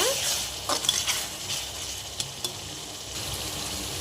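Close scraping and stirring of masala with tomatoes, coriander and mint in a frying pan over a steady frying hiss, with a few light clinks of a utensil against metal.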